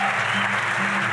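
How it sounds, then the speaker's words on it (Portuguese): A short, steady burst of audience clapping welcomes a speaker at a literary panel on book clubs. "Aplausos."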